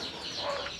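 A single short cluck from a sick country chicken, heard close and moderately loud over a little background noise.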